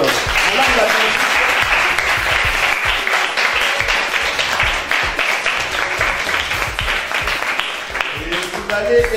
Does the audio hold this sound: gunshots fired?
no